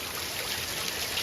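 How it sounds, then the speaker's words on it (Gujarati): Rainwater pours steadily into a water tank during a rain shower, a continuous close splashing trickle that holds even throughout, with no voices. "ટાંકો ભરાય છે."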